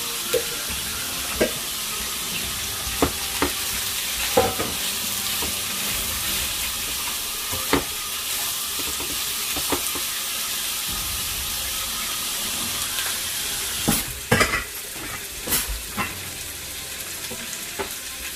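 Bacon frying in a pan, a dense continuous sizzle and crackle with scattered louder pops and stirring clatters, close and loud, with no talking.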